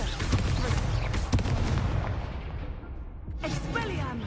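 A Confringo blast spell in Hogwarts Legacy goes off as a loud, rumbling explosion with heavy low-end boom and crackle that decays into a reverberant tail before a fresh burst of sound near the end.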